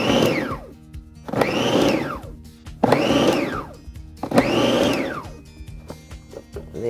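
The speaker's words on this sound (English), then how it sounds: "Your food processor does it for you." A food processor pulses cold butter into flour in short bursts, four whirring pulses that rise and fall in pitch with brief pauses between, loud and close.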